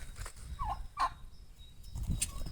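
A large two-year-old turkey for sale lets out short gobbling calls, mid-distance and fairly clear, with a low rumbling background and other bird chirps between the calls.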